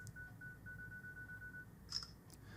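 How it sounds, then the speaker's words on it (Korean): A smartphone camera fires its shutter after a two-second self-timer: a soft steady tone holds, then a quick, quiet shutter click sounds near the end, followed by a second short tick. "이렇게 2초 후에 자동으로 셔터가 눌리게 됩니다"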